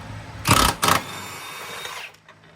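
Short bursts from a power tool loosening the front bolt of a Honda Element's rear subframe, two quick loud whirs close by followed by a fading mechanical whine, no voices.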